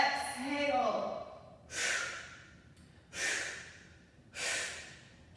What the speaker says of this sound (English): Loud exhale.